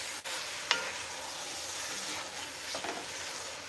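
Bear meat chili stirred in a pot of sizzling grease, a close, steady hiss and crackle with a scraping stir and a sharp utensil clink near the start, no talking.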